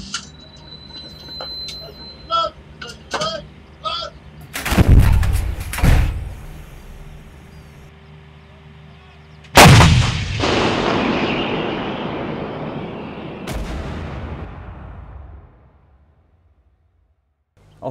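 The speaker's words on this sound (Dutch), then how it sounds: "Zodat de stukken dan daarna uit hun hide kunnen rijden en gericht kunnen vuren." Artillery pieces fire during a live-fire exercise: two huge, booming blasts, each followed by a long rolling echo that fades, with a third sharper crack near the end and faint voices at the start.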